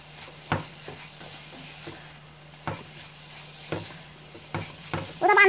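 Washed rice is added to onions frying in a pot and stirred, with a low sizzle under a handful of distinct scraping stirs and knocks against the pot.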